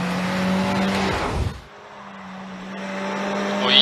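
A rally car on the Shibukawa Ikaho SS2 stage of the TGR Rally 2024 accelerates hard with a loud, rising engine note, dips briefly as it shifts, then climbs again.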